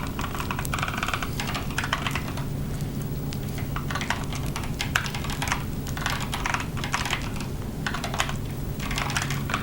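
Rapid, continuous clacking of keys on a computer keyboard, close and fairly loud, a dense, even patter with no pauses and no voices.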